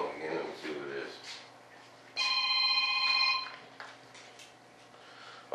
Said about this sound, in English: There goes that phone again.